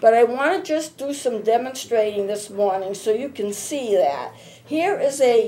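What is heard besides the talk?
No distinct noise like a dog, phone or traffic.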